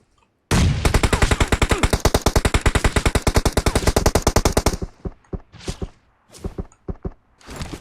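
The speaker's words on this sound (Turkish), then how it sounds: "İkisi de mi bana sıkıyor ya?" Sustained rapid automatic gunfire in PUBG Mobile aimed at the player, a loud continuous burst of closely spaced shots lasting several seconds, then a few shorter separate bursts and single shots.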